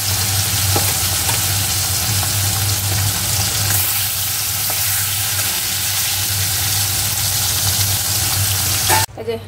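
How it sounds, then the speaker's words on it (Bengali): A pan of bhetki fish jhol with salt and turmeric, boiling over a steady broad bubbling hiss with a low hum beneath, continuous and close, ending abruptly. "মাছের ঝোল ফুটে গেছে"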